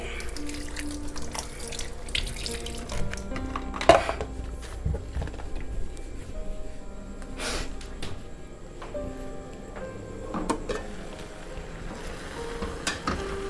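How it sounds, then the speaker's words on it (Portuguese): Hands are washed under a running kitchen tap during cooking, a steady close splash of flowing water with small clinks and drips scattered through, no voices. "Deixa eu lavar a mão."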